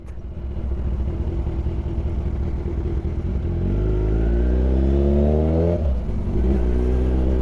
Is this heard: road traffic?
yes